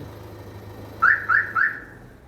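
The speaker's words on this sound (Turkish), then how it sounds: "Senin aracında zaten kendi alarm sistemin de var." Three quick, loud chirps from the alarm of a 2012 Peugeot 5008 ring out in a row against a quiet background.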